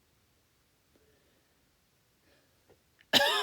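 A single sharp cough bursts out at the end, loud and close, after near silence broken by a few faint rustles, during a gel-printing landscape painting session.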